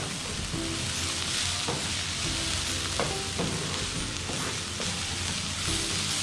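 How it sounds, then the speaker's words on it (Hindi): Half a cup of chopped onion fries lightly in a pan with a steady, dense sizzle and a few faint scraping clicks. "प्याज ले लें चॉप। हल्का सा इसको कुक करना है।"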